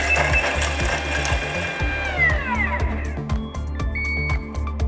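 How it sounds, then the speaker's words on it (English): A Thermomix milling vanilla bean with xylitol on speed 9 gives a steady, loud mechanical drone with a repeating rhythmic clatter, alone with no talking. "Now we're simply going to mill our vanilla bean and our xylitol down for 20 seconds on speed 9."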